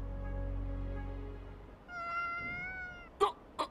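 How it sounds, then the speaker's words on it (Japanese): A stray cat in the Sword Art Online Alicization Lycoris video game meows a few times, a drawn-out cry followed by short chirpy mews, close and clear after a low droning background fades. "こいつ野良猫か。"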